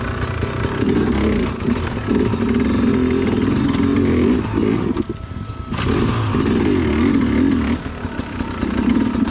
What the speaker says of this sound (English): I am loving the new Sherco.